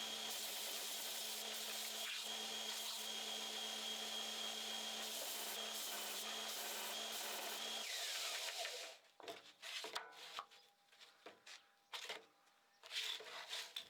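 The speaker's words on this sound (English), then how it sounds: "Now I'm using the belt sander to achieve a round shape of the chucks." A belt sander rounds the edges of DIY wooden climbing holds with a loud, steady whine for about eight seconds, then cuts out, leaving scattered close knocks and clatter as the piece is handled.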